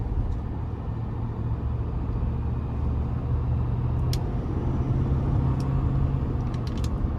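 A 2022 Ford F-350 dually's 6.7-liter diesel engine rumbles low and steady as it accelerates, a continuous deep drone heard from inside the cab with road noise beneath.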